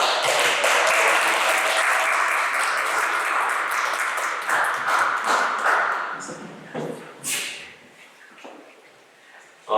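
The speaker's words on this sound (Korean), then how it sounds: "저희가 박수로 환영하도록 하겠습니다" A Korean congregation at a Sunday service in Detmold, Germany, applauds to welcome first-time visitors. Steady, full clapping runs for about six seconds, then thins out and dies away, with a few scattered knocks and a voice near the end.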